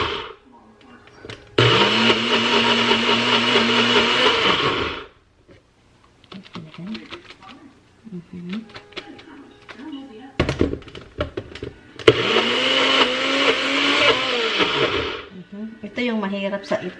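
A kitchen blender runs in two loud bursts of about three seconds each, its motor whine steady and close, with quieter clicks, handling noises and a voice speaking in the pauses between.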